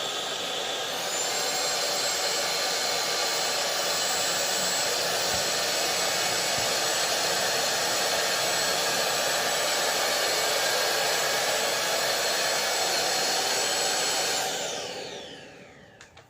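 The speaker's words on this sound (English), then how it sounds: "Next test, I'll be trying out both vacuums on this low pile rug." A Dibea D008 cordless vacuum cleans a low pile rug with a loud, steady high-pitched motor whine that holds for about fourteen seconds and then winds down as it switches off.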